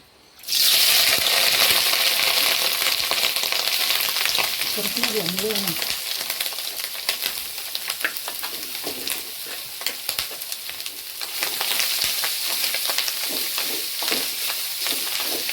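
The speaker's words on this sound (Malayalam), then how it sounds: "അപ്പോൾ നമ്മൾ കക്കാർച്ചി എണ്ണ ചൂടായി കക്കാർച്ചി വറുക്കാൻ ഇട്ട് കൊടുക്കാം" Clam meat fries in hot oil, giving a loud, dense sizzle that runs nearly throughout with scattered crackles and stirring noises, while a couple of brief voices speak quietly in the background.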